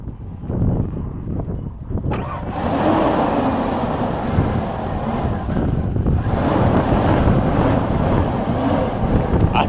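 An old engine that had sat unused since 1996 runs steadily after starting, a fairly loud, continuous rumble with wind-like noise over it and no voices.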